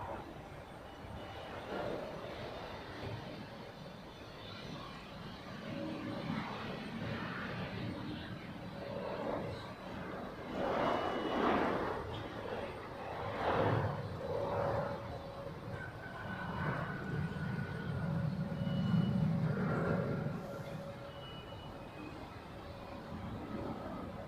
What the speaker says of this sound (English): Ja, sind nette Maschinen, die Embraer, nur leider ein bisschen häufig.